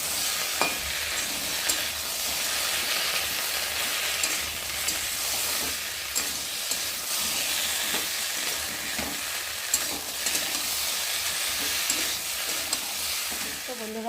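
Taro and potato chunks stir-fried with turmeric, salt and spices in a pan, giving a steady broadband sizzle with scraping stirs and occasional clatters of the spatula, close and continuous with no talk.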